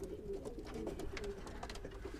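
Import-line pigeon pairs cooing steadily, a low repeated cooing hum carrying on through the whole stretch, close by, with soft rustles and occasional sharper bird sounds mixed in and no talk.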